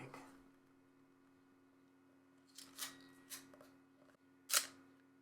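Shutter of a Canon AE-1 Program 35mm film camera fired a few times, giving several crisp, close mechanical clicks with a louder final snap, against a quiet room.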